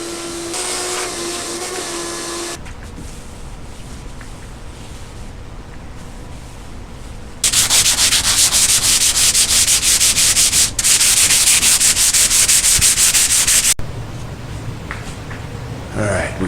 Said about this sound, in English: we sanded, filled some more low spots with Bondo, sanded some more